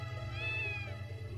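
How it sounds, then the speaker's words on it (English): A cat gives a single drawn-out meow that rises and falls over a low, steady hum, with no talking. "It meowed and it says roar."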